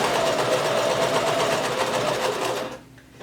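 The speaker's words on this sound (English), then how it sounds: "Begin sewing, back stitch, and we're going to sew all the way down until we get to our the notch that we made" A sewing machine runs a steady, continuous stitch down a maxi skirt seam for nearly three seconds, loud and close, then stops abruptly.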